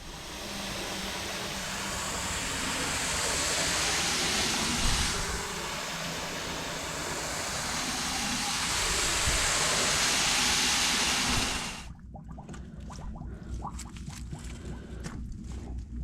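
Water pours into a whole-pig brine container in a loud, steady rush for several seconds, then cuts off, leaving light clatter and knocks.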